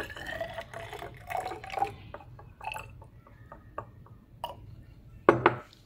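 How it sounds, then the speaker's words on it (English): Sulfuric acid, 40 cubic centimetres measured in a cylinder, is poured into a 250 ml glass beaker on a lab bench, making a run of soft liquid splashes and light clinks with a sharper glassy knock near the end. "And we are going to pour this into the 250 milliliter beaker."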